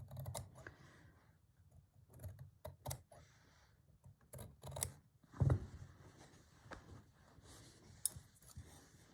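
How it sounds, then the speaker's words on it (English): Fabric for a French-style rice bag being trimmed with scissors, giving a quiet run of close snips and clicks, with faint handling noise in between. "Now I can trim it more true"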